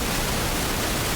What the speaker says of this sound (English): I have just white noise.